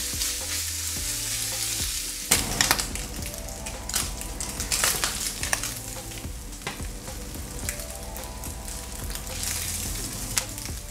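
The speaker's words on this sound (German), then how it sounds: "Nochmal kurz durchschwenken und ein bisschen braten lassen, dass er leicht Farbe bekommt." Diced ham fries in a hot pan for lasagne with meat sauce, giving a loud, steady sizzle broken by scraping and tossing clatter as it is stirred, with no voices.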